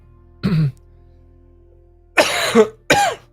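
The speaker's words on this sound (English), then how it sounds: "Sorry if I'm hurting your ears by coughing into the mic." One short cough, a pause, then two louder close-up coughs right into the microphone, slightly harsh and boomy.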